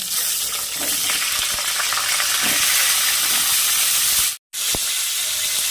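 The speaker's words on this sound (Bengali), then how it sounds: "ওই কড়াইতে আবার তেল দিয়ে দিলাম ফোড়নে দিলাম গোটা জিরে তেজপাতা আলু দিয়ে দিলাম" Potatoes fry in hot oil in a kadai with whole cumin seeds and bay leaf, giving a steady, close, loud sizzle that cuts out briefly near the end before resuming.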